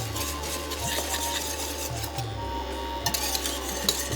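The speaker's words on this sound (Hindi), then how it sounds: "साथ साथ चलाते रहिए, लम्स नहीं पड़ने चाहिए साहब" A spoon scrapes and rubs steadily around a pot of thickening jowar flour phirni, a continuous gritty stirring with occasional light clinks against the metal.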